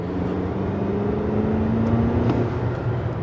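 A Lexus RX 350 SUV accelerates, its engine a steady, loud hum that climbs slightly in pitch beneath road and wind noise, with no talk.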